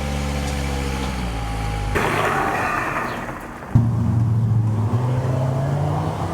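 A salvage Volvo XC70 on a test drive after a pulsing fault was worked on, its engine and road noise steady and close, with a clear change in engine tone partway through.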